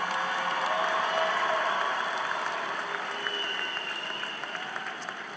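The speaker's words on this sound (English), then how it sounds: "I want you to give them a rousing round of applause." A large audience at a college commencement ceremony gives a sustained round of applause, a dense, even wash of clapping heard from a distance for the whole stretch.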